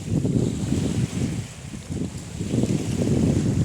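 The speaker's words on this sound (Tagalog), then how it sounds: "Lakas ng hangin dito." Strong wind roars and buffets a microphone in gusts, a steady low rumble that swells and eases, with no talking.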